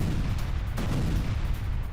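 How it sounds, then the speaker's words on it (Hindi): Continuous heavy rumbling blasts, dense and booming throughout, like explosions or artillery fire with no pauses. "पहला धमाका होता है और उसके चंद पलों के बाद दूसरा धमाका होता है"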